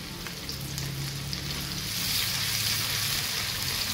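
Onions and ginger-garlic paste fry in a pan for mixed vegetables, a steady close sizzle with soft hiss that swells louder in the second half, with no talk over it.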